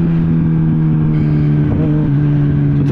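A motorcycle engine revs loudly and close, holding a steady droning tone with slight pitch shifts throughout, without any voices.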